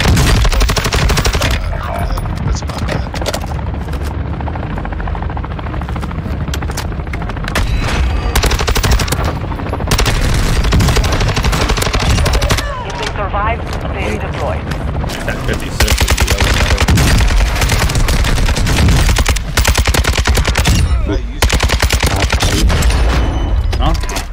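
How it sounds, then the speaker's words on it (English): Minigun fire in the Warzone 2 video game roars almost nonstop, loud and dense, with sustained bursts and booms layered over excited player chatter throughout. "Oh my god, a minigun?"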